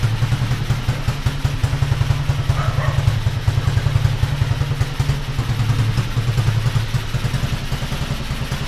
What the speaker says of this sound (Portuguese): Dá um cortezinho de giro pra você aqui, ó.